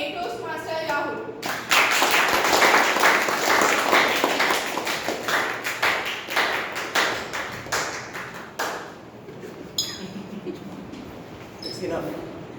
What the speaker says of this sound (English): with a huge round of applause, let's welcome the joke master of the day